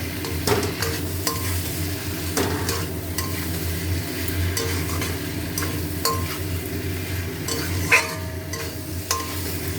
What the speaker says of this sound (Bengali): এবারে পটল আলু দিলাম এবার পটল আলু দিয়েও ভালো করে কষাবো